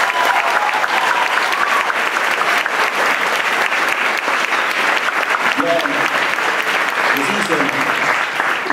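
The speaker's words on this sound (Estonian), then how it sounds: "võite aplodeerida." Loud sustained applause from a theatre audience at an award ceremony fills the hall without a break, with faint voices showing up near the end.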